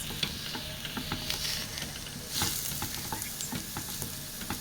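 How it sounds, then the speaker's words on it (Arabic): Two chopped onions and minced meat fry in ghee while being stirred, a busy close sizzle broken by frequent scraping clicks of the spoon against the pan. "احنا دلوقتي قطعنا بصلتين، وبنعمل دلوقتي تعصيبة اللحمة المفرومة. هنفضل نقلب فيها لحد ما هي تدبل خالص"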